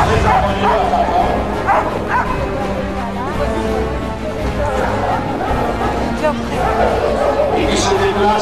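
A powerful Bouvier des Flandres barks and yips with whimpering mixed in, over steady background chatter and talk.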